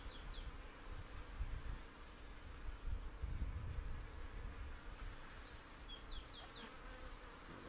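Honey bees around an open hive during a swarm inspection, a faint continuous hum with scattered higher chirps and buzzes of individual bees passing near, quiet and ambient.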